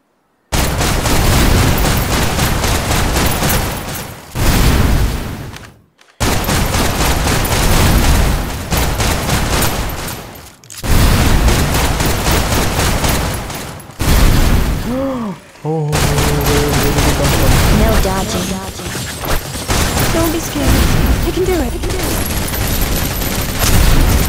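Video game gunfire in Snowbreak: Containment Zone comes as loud, dense automatic bursts and booms nearly nonstop, broken by short gaps, with game effects and a voice talking over it.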